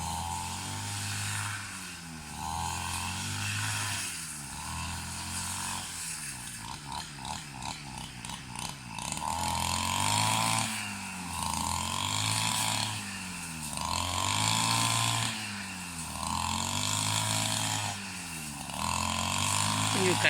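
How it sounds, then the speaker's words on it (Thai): The engine of a grass-cutting machine drones steadily at a distance with a pulsing hum, while people talk over it throughout. "ฟังเสียงเครื่องมวนมวน"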